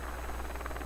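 A surveillance drone buzzes in the video game Rainbow Six Siege, a continuous close whirring hum holding steady across the brief moment with no talk.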